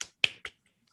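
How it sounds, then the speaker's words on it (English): Three sharp, brief hand claps in quick succession, close and isolated, with silence after. "My hands are clapping for you."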